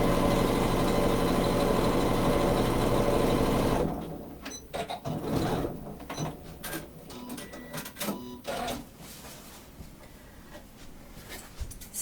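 Sewing machine stitching a shopper tote closed, running in a loud continuous whir for about four seconds, then stopping, followed by scattered soft clicks and handling noises.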